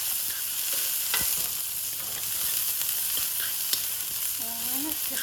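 Red onions sizzle in a hot pan for a stir fry of eggs and tomatoes, a steady close frying hiss with occasional stirring clinks and scrapes, no talking.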